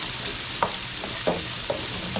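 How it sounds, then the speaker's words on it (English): Shrimp sautéing with garlic in a pan, giving a steady sizzle broken by several soft scraping stirs at a regular pace; no talking. "we're gonna saute the shrimp"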